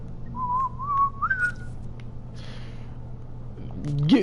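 A person with a dry mouth tries to whistle, producing a few thin, wavering notes that rise slightly in pitch, near and fairly quiet, with a low hum underneath and a voice cutting in at the end.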